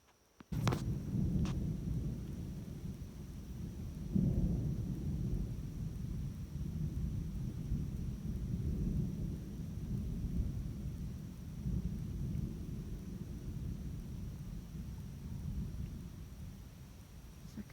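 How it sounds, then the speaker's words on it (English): A nighttime thunderstorm over a campsite in Algonquin, with low rumbling thunder rolling on and off beneath a steady soft patter of rain and light wind, fairly distant and continuous, with no talking. "Second storm I've had here this weekend, both at nighttime, thankfully."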